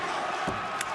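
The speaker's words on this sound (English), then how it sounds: "This crowd coming alive here for the Bollywood boys." A crowd at an AEW wrestling event cheering, a loud, continuous roar of many voices filling the arena, with a brief sharp burst near the end.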